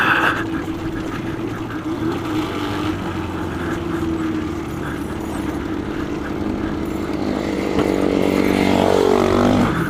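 A Yamaha Banshee 350 two-stroke ATV engine drones loudly and continuously outdoors, with its pitch climbing as the rider pulls away near the end.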